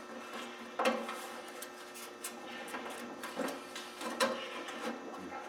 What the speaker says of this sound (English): I'm going to use a metal scraper here and very gently walk under here and cut through that double-sided stooge tape they've got